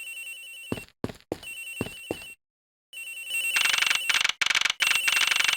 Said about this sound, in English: The ring is coming from somewhere in here, sir!